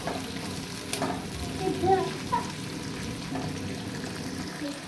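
Gentle frying of onion and garlic in oil, a soft continuous sizzle with a few stirring scrapes and light clinks, no voices.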